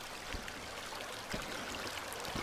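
A river stream flows steadily near a dam in wooded ground, a continuous broadband rush with a few faint knocks, no voices.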